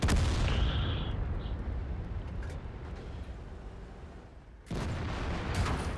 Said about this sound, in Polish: Teraz niestety strzał z biodra nie powiódł się.